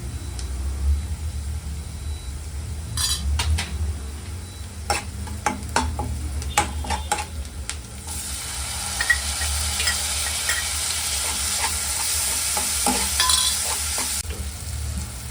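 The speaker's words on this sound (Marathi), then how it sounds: "आता हळद आणि टोमॅटो घालूया" Turmeric and tomato go into frying onions for a black pepper chicken, with sharp spoon knocks and scrapes against the pan, then a louder hissing sizzle that builds and holds before easing off, close and without talk.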